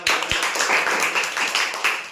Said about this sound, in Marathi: अश्विनीसाठी जोरदार टाळ্या.